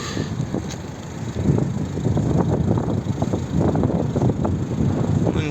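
A 2008 Volvo V50 with a 2.0 diesel engine runs at idle, a steady nearby clatter mixed with gusty wind noise on the microphone.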